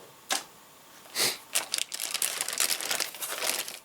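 A plastic wrapper from a Trumpeter 01536 E-50 Standardpanzer model kit box crinkles in the hands: a few separate crisp snaps at first, then a dense run of close crackling.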